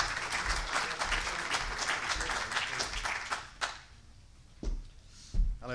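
Conference audience applause at an employment law session, a full round of clapping that tapers off after about three and a half seconds, followed by a few isolated taps and thumps.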